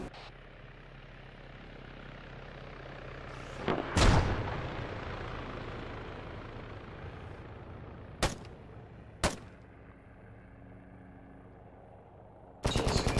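A gun turret in a video game fires a few isolated, sharp shots over a quiet background hum, then a dense rapid burst starts at the very end.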